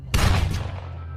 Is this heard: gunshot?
yes